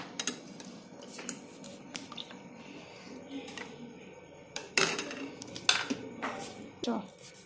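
Cardamom pods being pounded for the traditional Dogra dish doodh ka madra make faint scraping and crunching at first, then a few sharper, louder knocks and clicks in the latter half.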